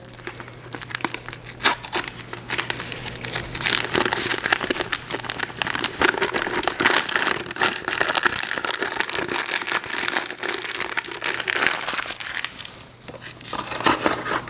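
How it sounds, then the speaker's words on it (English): Paper packaging from a Jello-brand cake ingredient is torn open and crumpled by hand in a home kitchen, a long run of close, dense crinkling and ripping with no talk over it. "Just tear right into this paper super easily, like anyone would, and get that in there."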